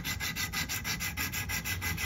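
A knife blade is ground on a sharpening stone along its shoulder, short of the edge, in rhythmic back-and-forth strokes, about ten even rasping passes, close and clear with no talking.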